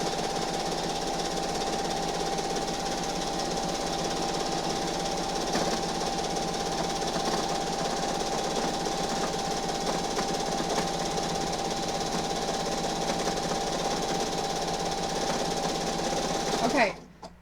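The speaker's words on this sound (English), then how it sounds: "sewing over top of those t-shirts takes a bit more time because you're going slower" A sewing machine quilting over t-shirt fabric runs at a slow, even pace, its needle chattering in a steady close rhythm before stopping abruptly at the end.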